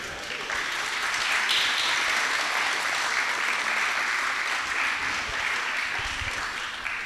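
Steady audience applause fills a hall at a Python developer conference talk, a dense continuous wash of many hands clapping from start to finish with no speech over it.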